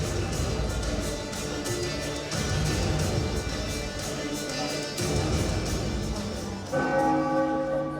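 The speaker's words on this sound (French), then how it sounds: "Les cloches sonnaient le début des réels ennuis pour leur compagnon." Church-style bells peal continuously during a cosplay stage performance, a loud, rich, overlapping ringing that keeps going for the whole stretch.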